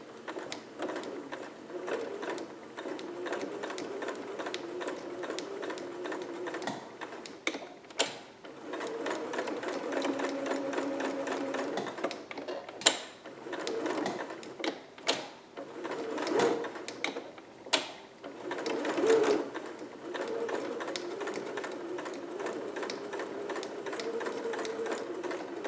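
A sewing machine bastes a long stitch over pins in fabric, its motor running in a steady close whir for most of the stretch, with brief pauses and small mechanical clicks between runs.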